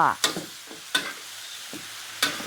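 Pork leg skin dry-roasting in a hot wok: a few sharp spatula scrapes and taps over a low, steady hiss, close by with no voices.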